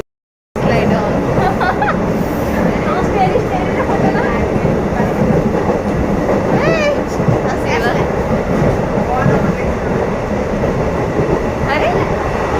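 Steady rumble and rattle of a passenger train in motion, heard from inside the carriage with the lights out, a loud continuous roar with faint wheel clatter and light background voices throughout.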